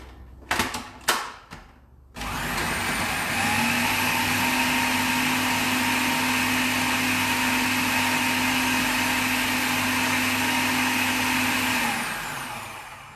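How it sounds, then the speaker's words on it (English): A blender purées a whole cooked, skinned eggplant with its juice, running loud and steady for about ten seconds with a rising whine, then winding down. A few sharp clunks come just before it starts. "And now we're just going to blend that."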